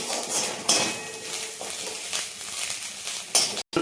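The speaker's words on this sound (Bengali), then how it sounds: "টোটাল বিষয়টাকে মা ভালো করে ভেজে নিচ্ছে" Curry leaves, whole garam masala spices and grated coconut fry in oil in a home kitchen, a close sizzle broken by a spoon scraping and clinking against the pan several times.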